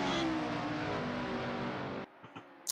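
A Formula Student race car at a track event roars past close by, its engine loud and steady for about two seconds before cutting off sharply and leaving faint ambient sounds.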